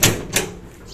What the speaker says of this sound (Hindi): दरवाजा खोल के कहाँ जा रहे हो